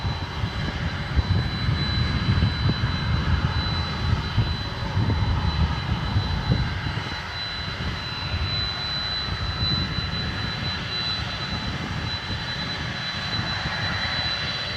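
Jet airliners, a Boeing 757 and a 767, taxi at DFW Airport at night. Their aircraft engines make a loud, continuous whine and rumble with a high tonal line running through it, steady for the whole stretch with no voices.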